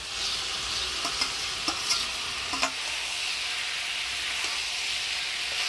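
Fried fish being stirred into cooked-down vegetables in a pan for a katla fish chorchori, giving a steady soft frying sizzle with a few brief scraping clicks of stirring, fairly quiet throughout.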